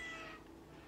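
A single short, faint cat meow from the video game Goat Simulator, heard alone and fading out quickly.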